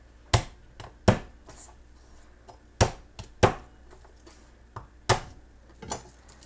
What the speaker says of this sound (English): I have here 3 cloves of garlic.